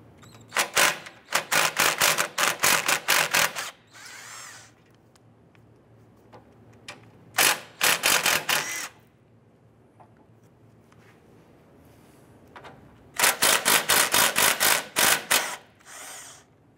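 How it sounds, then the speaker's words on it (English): A ratchet with a 10mm socket loosens the retaining bolts on the A/C condenser of a 2011-2017 Honda Odyssey, giving three bursts of rapid, loud, close clicking with quieter gaps between them. "We're going to use our 10mm socket to remove this bolt here, this retaining bolt here, and then the bolt on the bottom here."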